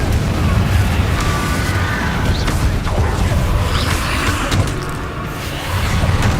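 A Confringo blasting spell explodes in Hogwarts Legacy: a series of booming, rumbling bursts with crackling debris over a dense low game soundscape, loud and sustained for several seconds.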